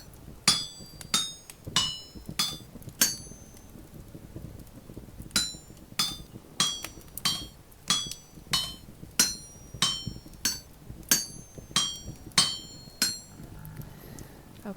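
Metal being smithed with a hammer in the video game Vintage Story: sharp ringing anvil strikes in steady bursts, with short pauses between groups of blows.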